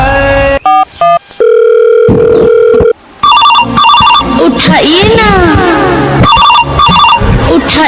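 A telephone rings in loud, repeating electronic tones, broken by short gaps and sliding, warbling pitches.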